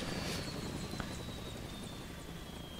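A helicopter in the video game Crisis Core drones with a steady, dense rotor roar throughout, loud and continuous with a faint high whine, and no talking.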